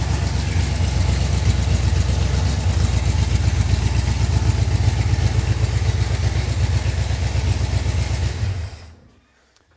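A newly started hot rod engine with its ignition timing slightly off runs loudly and close by in a steady, pulsing rumble for about eight seconds, then cuts out abruptly into near silence.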